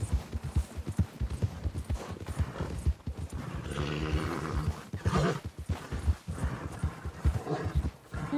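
Horse hooves clip-clopping with a few whinnies and snorts in the Red Dead Redemption 2 video game, steady hoofbeats close by over game ambience.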